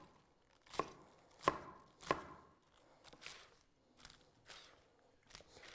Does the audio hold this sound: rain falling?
no